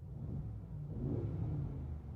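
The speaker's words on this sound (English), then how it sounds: "So that's gonna open the exhaust valves." 2019 Mercedes G63 AMG V8 engine with its exhaust valves open, a low, throaty rumble that swells slightly in the middle, heard faintly and fairly close without talk.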